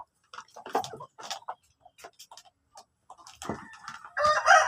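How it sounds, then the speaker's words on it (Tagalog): Hungry farm chickens, breeders waiting for feed, cluck and squawk in short scattered calls nearby, rising into louder, more insistent clucking toward the end. "Gutom na gutom na ang ating mga manok mga ka-farming."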